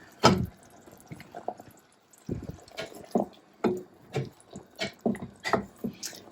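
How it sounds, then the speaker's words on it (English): Sauce stirred in a pot on the stove, a spoon giving wet taps and scrapes at a steady pace after an opening clink, close and moderately loud with no talking. "I need to give the sauce a stir."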